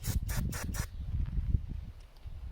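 Four quick bursts of aerosol cleaner sprayed into a Predator 8750 generator carburetor, sharp hissing puffs in a row, followed by quiet mechanical rustling.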